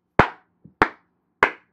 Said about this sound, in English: Don't be clapping.